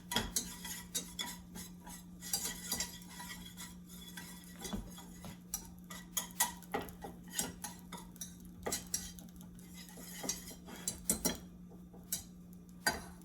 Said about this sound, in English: I'm just going to stir this around over medium heat for about 1 minute just to cook that flour through.